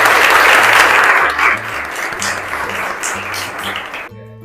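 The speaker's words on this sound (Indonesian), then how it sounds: "Tepuk tangan untuk kita semua." Sustained applause from an audience in a classroom teaching session, loud and dense at first then thinning toward the end, with faint background music underneath.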